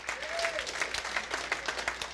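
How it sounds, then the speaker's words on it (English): Audience applause at a men's barbecue gathering, a moderate patter of clapping from a small group, steady and close throughout the short stretch. "everybody give a round of applause for Chris, Don, Angel, Judah, and Caleb."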